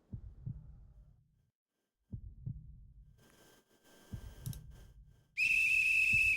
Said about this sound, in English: The whistle blows, cheers erupt